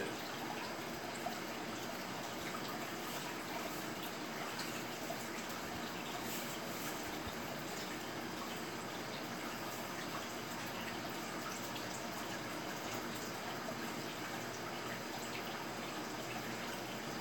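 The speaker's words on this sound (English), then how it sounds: "I want to take out at least 100 gallons of water and replace it." Water from a 220-gallon American cichlid aquarium drains during a large water change, a faint, steady rushing trickle that continues throughout with no talking.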